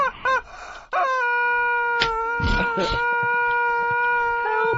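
Recorded chicken clucking in short bursts, then breaking into a long, loud, sustained harmonic squawk that wavers and holds to the end, close and clear over faint background noise.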